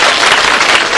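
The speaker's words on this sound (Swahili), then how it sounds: "Makofi kwa Mungu jamani" Church congregation applauding during a Catholic thanksgiving Mass at Loreto Nyakato, a dense, steady burst of many hands clapping close by that fills the whole moment without a break.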